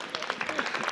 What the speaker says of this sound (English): a big applause for this gentleman here, Jonathan.